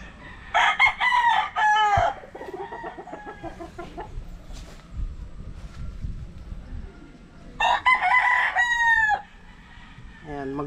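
Gilmore Hatch over Papay Gray gamefowl roosters on a farm crow several times, with two long, loud crows near the start and another later, separated by quieter clucking and farmyard noise.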